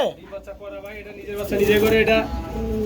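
Pigeons at a pigeon farm coo and call in a low, rolling murmur close by, with a person talking over them in the middle of the stretch.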